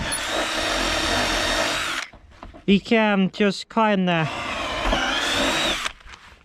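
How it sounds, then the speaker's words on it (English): A power drill whines in short bursts, revving up and down between pauses, with someone talking before and after the drilling. "So now we need to kind of drill holes."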